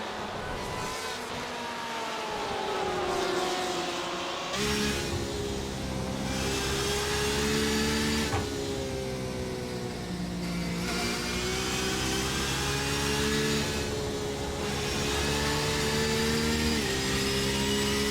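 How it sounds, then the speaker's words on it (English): A Porsche sportscar engine in the iRacing sim at Suzuka GP, heard on board, a loud continuous roar rising and falling through gear changes and revs, with no voices over it. "Just on board with the Porsche at the moment, see how Vols is faring on this track here today"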